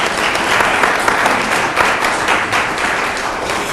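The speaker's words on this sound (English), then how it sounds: "I think that's enough to give each other applause for" A dense crowd at a city address applauds continuously and loudly throughout, with many hands clapping at once and no break.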